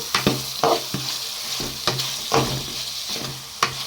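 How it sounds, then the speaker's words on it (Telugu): Spatula strokes stir fish and tomatoes frying in a pan for a village-style fish curry, giving sharp repeated scrapes and taps over a steady close sizzle. "బాగా తిప్పేసుకుందాం దీన్ని కూడా"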